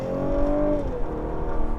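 A 2016 Cadillac CT6 with a 400-horsepower engine heard from inside while driving, a steady droning hum that rises in pitch and then settles as the car accelerates, fairly loud and continuous.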